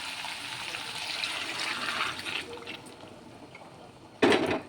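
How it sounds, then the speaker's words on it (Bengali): Reserved boiled water is poured into mutton curry in a pan, a steady splashing pour that fades after a few seconds, followed by a short, sharp clatter close by. "এবার আমি দিয়ে দেবো সেদ্ধ করে রাখা জলটা"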